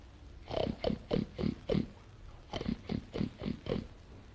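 A voice imitates a pig with two bursts of quick, rhythmic grunting oinks, about five each, close and moderately loud.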